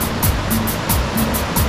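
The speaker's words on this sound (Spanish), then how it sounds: "y ahí está el río." The Cañar river near Zhucay flowing at dusk, a steady broadband rush of water with rhythmic surges like breaking surf, fairly loud and continuous with no voices.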